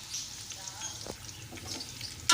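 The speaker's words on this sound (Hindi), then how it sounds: "तो ये मैंने इसमें प्याज डाल दी। मैं प्याज को मैं ब्राउन करूँगी।" Onions, about half a kilogram, frying in oil in a pot for chicken biryani make a faint, low hiss with a few soft clicks, and a sharper clatter comes at the very end.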